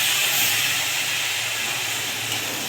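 Chopped tomatoes and peas land in a pan of vegetables frying in oil, giving a loud, steady sizzle and hiss that holds at the same level throughout, with no voices.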